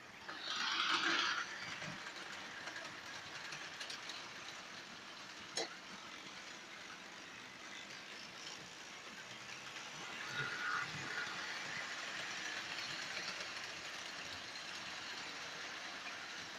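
A Bachmann model train locomotive running on its track under Digital Commander control, giving a faint steady mechanical hum and light rattle with a few small clicks, no voice.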